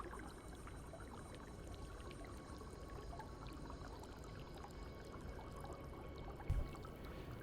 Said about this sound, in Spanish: el agua que caía dentro de esta laguna